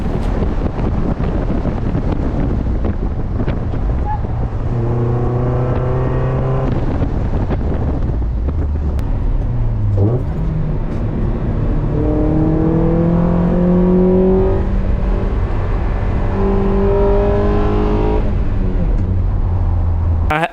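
A Mazda Miata is driven with the driver misshifting gears, heard as a loud engine whose pitch climbs, drops abruptly and climbs again through several uneven gear changes, with heavy wind noise over the microphone.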